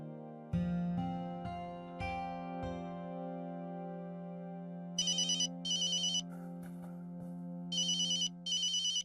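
Telephone ringtone heard while a call is placed, repeated bursts of electronic ringing tones over a sustained musical drone, clear and moderately loud with no talk.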